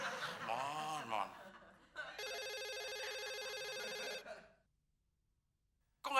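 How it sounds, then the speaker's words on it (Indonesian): A telephone bell rings in an indoor comedy scene, a steady electronic ring lasting about two seconds and going unanswered, preceded by a voice and laughter, then silence before talk resumes. "Kok nggak diangkat, Mon?"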